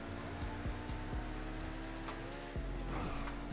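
A Torero XO sports car in GTA Online drives on a rain-soaked road on tuner tires, its engine whining through rising and dropping tones as the tires squeal and slide, fairly faint with no talk.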